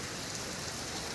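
Rain falls in a dense, steady hiss of countless drops striking surfaces, even and unbroken throughout the short stretch, with no voices.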